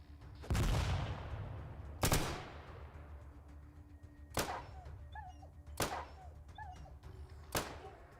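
Friendly gunfire in the ATOM RPG video game, five sharp, widely spaced shots ringing out over a quiet background, the first heaviest with a lingering tail.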